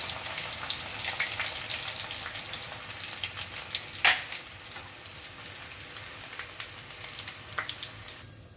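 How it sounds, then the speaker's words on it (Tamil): Crushed garlic deep fries in oil with a continuous crackling, bubbling sizzle and scattered pops, one louder spatter midway, with no talking. "பூண்டை வந்து நான் நச்சு வச்சுருக்கேன், ஒரு கட்டி எடுத்து. அதையும் நம்ம பொரிச்சு எடுத்துக்கலாம்."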